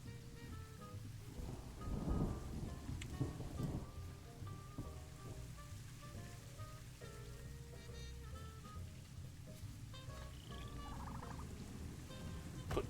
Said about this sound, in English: Oh lovely, it's raining.